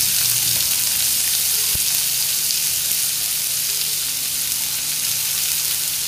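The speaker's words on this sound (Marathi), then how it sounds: "कांदा व्यवस्थित परतून घेऊया।" Chopped onion sautés in a pan, a dense, even hiss of frying that holds steady throughout, with one brief knock near the start and no voices.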